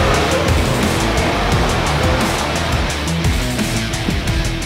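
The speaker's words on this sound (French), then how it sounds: "allons comparer le Kia Sportage et le Mazda CX-5 en piste" A Kia Sportage and a Mazda CX-5 lap a race track, with loud, steady broadband road and engine roar filling the whole stretch and no talking.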